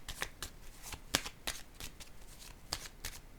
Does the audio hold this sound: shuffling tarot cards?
yes